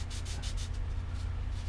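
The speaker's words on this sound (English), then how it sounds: "we're just going to carve, what I call carving, rough sanding, and getting this" Rough hand sanding of a wooden propeller blade during carving, heard as quick, rhythmic back-and-forth rasping strokes, close and fairly loud, with no voices.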